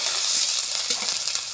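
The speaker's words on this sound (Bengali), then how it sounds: "ফোড়নে সাদা জিরে দিচ্ছি, 3-4টে গোটা রসুনও দিচ্ছি" Cumin seeds and three or four whole garlic cloves hitting hot oil for a tempering, a bright, dense sizzle that stays loud and constant for the whole short stretch.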